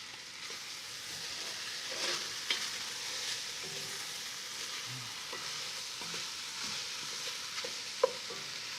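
Leeks, carrots and celery sauté in a pot for a corn and zucchini minestra, a soft, even sizzle with faint occasional pops and light stirring clicks, steady and fairly quiet.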